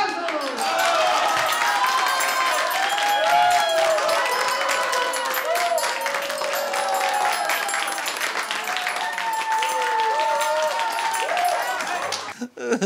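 Studio audience applause on a Peruvian TV comedy set, a steady dense wash of clapping mixed with crowd voices and some cheering that runs the whole stretch before thinning out abruptly at the very end.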